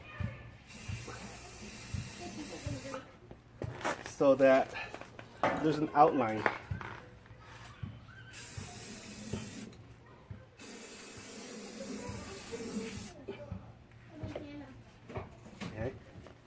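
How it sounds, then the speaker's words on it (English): Several bursts of aerosol primer spray paint hiss in short and longer blasts, close by, with a person talking quietly between and under them. "I'm going to spray this"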